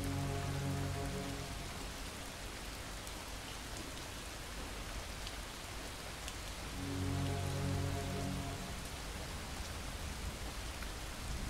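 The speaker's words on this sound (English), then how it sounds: "It's rain." Steady rain falling in the video game Far From Noise, a constant dense hiss of drops on surfaces with a faint droning tone swelling in places, heard alone.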